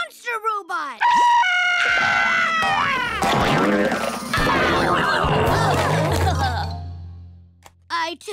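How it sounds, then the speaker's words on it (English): A cartoon scream bursts from the scream screen in a children's animated math show, loud and wavering, then breaks into warbling, chaotic effects that fade into a low hum, with a short voice at the end. "The scream screen always surprises Goo"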